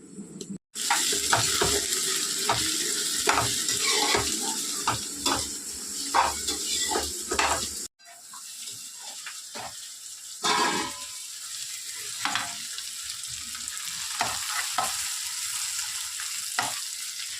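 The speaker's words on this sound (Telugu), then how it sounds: "టమాటా వేసేస్తే ఉల్లిపాయ టమాటా రెండు మగ్గిపోతాయి టమాటా వేస్తున్నావు ఇప్పుడు టమాటా వేసేస్తున్నాము" Onion and tomato fry in a pan for a tomato fish curry, making a loud, continuous close sizzle with stirring scrapes; the sound briefly cuts out and then resumes, a little softer.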